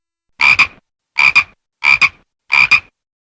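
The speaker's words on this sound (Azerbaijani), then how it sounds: "Qurbağa, təbiətin möcüzəsi." A frog croaks four times in a steady rhythm, each call a loud, close double pulse separated by short silences, with nothing else heard.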